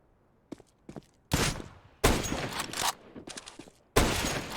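Pistol fire from the Counter-Strike video game, in a CS:GO match on Dust2: a few faint light clicks, then several sharp loud shots and short bursts with gaps between them, and no voices.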